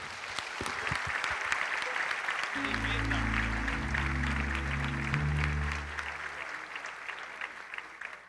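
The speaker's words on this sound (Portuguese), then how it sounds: "Dê uma salva de palmas ao Senhor e vamos receber esses nesta manhã." A church congregation applauds during a morning service, a steady wash of clapping that runs under sustained low organ or keyboard chords before fading near the end.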